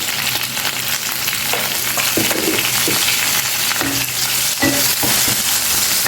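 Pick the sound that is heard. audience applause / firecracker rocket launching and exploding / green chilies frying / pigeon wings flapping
green chilies frying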